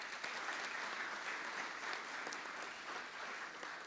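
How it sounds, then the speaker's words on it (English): An audience claps steadily and evenly at a conference session in Marrakech, a dense, fairly distant patter of many hands that holds level without cheers. "Please, big applause."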